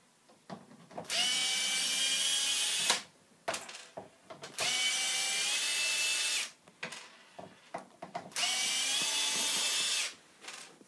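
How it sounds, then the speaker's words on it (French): A screwdriver removes screws from a Renault Scenic instrument cluster. Three long, loud bursts of whirring powered driving are separated by short pauses with small clicks and handling noises, close to the listener. "il suffit d'enlever les vis, hein. Donc vous le faites avec votre tournevis"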